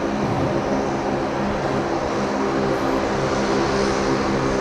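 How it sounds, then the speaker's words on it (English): A noisy Saab propeller airliner arrives at Brisbane Airport, its loud, unbroken propeller drone filling the whole stretch with no voices. "I've turned the mic down just a little bit because it is so noisy, this Saab."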